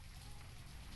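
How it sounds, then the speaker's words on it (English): Steady rain in the city-building video game Banished, a constant soft hiss of falling drops with a low rumble underneath, even and unbroken. "And it's raining."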